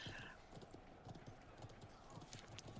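Cavalry horses gallop in the video game Conqueror's Blade, their quick rhythmic hoofbeats faint and continuous beneath the battle noise.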